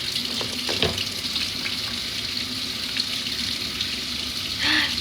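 Steady rush of tap water running into a sink while hands are washed with a ring still worn, with a few small clinks and splashes over the flow.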